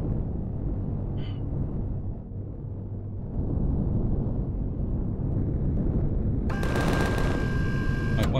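Gunfire aimed at fuel tanks at an industrial fuel depot in the video game Empyrion Galactic Survival: a dense, rumbling barrage of shots with low booming weight, joined by a brighter crackling burst near the end.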